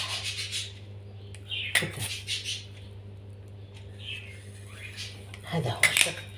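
A knife cuts rolled cigar pastry on a metal tray, producing a few sharp scraping clinks and rubbing strokes in bursts separated by quiet stretches.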